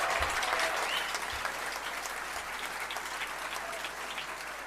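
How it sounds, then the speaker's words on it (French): Steady applause from an audience at a French political assembly, a dense wash of clapping that holds at an even level for the whole stretch, with no voices over it. "il faut t'applaudir"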